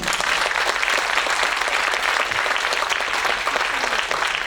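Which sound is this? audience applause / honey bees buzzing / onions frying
audience applause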